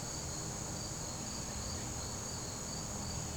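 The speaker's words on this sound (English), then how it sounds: "I could probably sit here in this chair doing nothing for hours and listen to those crickets" Crickets chirp steadily in a dense, continuous high-pitched drone outdoors, with no pauses and no voices.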